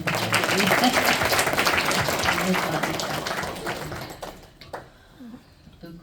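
An audience claps together at a satsang gathering, a dense, loud round of applause that slowly fades out. A voice speaks briefly as it dies away.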